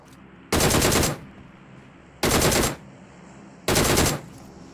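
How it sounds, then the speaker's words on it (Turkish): Machine gun fire from a DP-28 in PUBG Mobile, heard as three loud rapid bursts of roughly half a second each, spaced about a second and a half apart, with quiet game ambience between. "Arkandan silah sesi gelmedi mi?"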